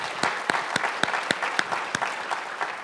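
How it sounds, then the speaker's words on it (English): Scattered applause from a panel discussion audience on Indian healthcare innovation, a small group clapping in distinct rhythmic claps, fairly sparse and moderately close, lasting a few seconds. "Give a big round of applause to this team"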